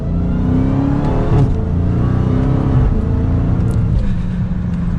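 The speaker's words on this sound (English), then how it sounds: "That supercharger whine," A 2022 Dodge Charger SRT Hellcat Widebody accelerates on a mountain road, its engine droning steadily and loudly with a whine layered over the rumble, heard from inside the car without any talk.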